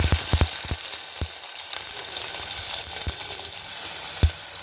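Onions fry in hot oil with fennel and fenugreek, a steady close sizzle broken by a few sharp knocks of a spoon against the pan.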